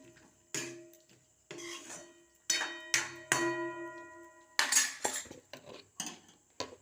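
A utensil scrapes and clanks against a pan as meat is stirred with meat masala, giving a series of sharp metallic knocks and scrapes, fairly close and with no talking.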